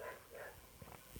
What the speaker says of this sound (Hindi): कुत्ते बहुत ज़्यादा भौंक रहे हैं